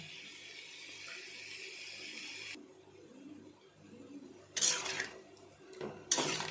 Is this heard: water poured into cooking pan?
yes